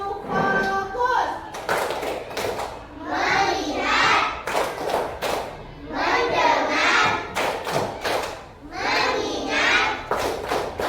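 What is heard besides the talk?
class doing rhythmic concentration clapping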